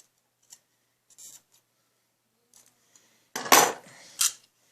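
Scissors snip through leather while trimming a ragged edge on a leather feather, a few quiet cuts followed by a louder crisp clipping burst near the end, with no talking.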